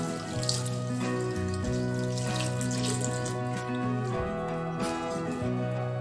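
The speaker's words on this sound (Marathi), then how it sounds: "हे पाणी टाकते।" Water runs steadily from a tap into a vessel as fenugreek leaves are washed, forming a continuous splashing stream with a shifting hum in the kitchen.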